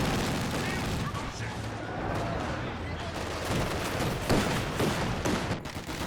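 Real-time strategy battle gunfire from Company of Heroes 2 during a 2v2 league match: dense, continuous rattling volleys and scattered booms across the whole stretch, with the crackle sharpening toward the end, under faint talk.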